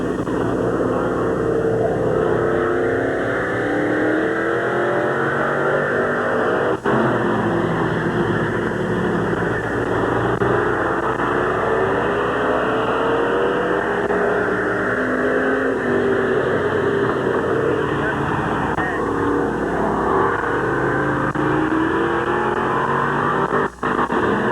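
Race car engine at Midvale Speedway, a 1986 event: a steady, continuous roar of engines on the track fills the whole stretch, with shifting pitch as cars circle, loud and without pause.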